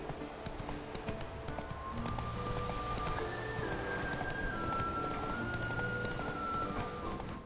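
Hooves of Roach, a horse in The Witcher 3, clip-clop at a steady gallop on a steep mountain path, continuous and fairly close, with a faint game tone and music underneath.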